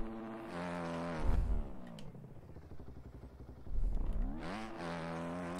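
Video game car engine revving and accelerating, pitch sweeping up and down through gear shifts with two heavy low bursts, loud and continuous with no talk.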